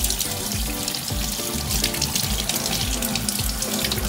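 A kitchen tap runs loudly and steadily while a freshly caught herring is rinsed under it, with water splashing close by and no talking.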